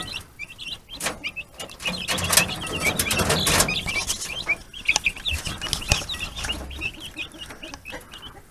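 A mother hen called Henrietta clucks steadily with her healthy young chicks on a rocky homestead, soft repeated clucks mixed with high peeping chirps, close by and continuous, with no talking.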